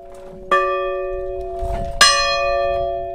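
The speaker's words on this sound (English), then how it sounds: "a church bell fills this peaceful Bayou countryside." A church bell in peaceful Bayou countryside strikes twice, about one and a half seconds apart, each loud ringing tone hanging on and overlapping the next as it slowly decays in open air.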